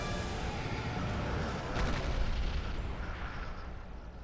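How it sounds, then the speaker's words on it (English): Black Fire Orb spell cast in Dark Souls 3, a dense, roaring whoosh with a swelling burst in the middle, loud and continuous over a rumbling game backdrop. "Now we go switch to Black Fire Orb."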